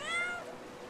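A cat meows in the video game Brothers: A Tale of Two Sons, a single drawn-out, clear meow that rises and then fades, close and alone.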